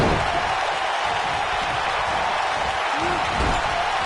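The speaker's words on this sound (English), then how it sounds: "I don't remember the last time I heard a more passionate crowd than the one we have here tonight" A wrestling arena crowd at a pay-per-view event cheering and roaring, a steady, loud wash of noise throughout with a faint voice underneath.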